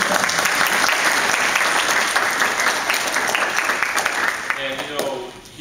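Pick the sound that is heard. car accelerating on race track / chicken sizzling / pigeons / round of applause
round of applause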